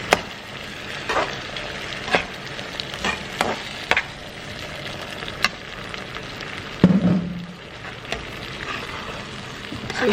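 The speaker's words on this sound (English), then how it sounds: "So right now you can add your fresh tomato." Fresh tomato frying in a pan for gizdodo gives a steady, fairly loud sizzle, broken by occasional sharp clicks and scrapes of stirring throughout.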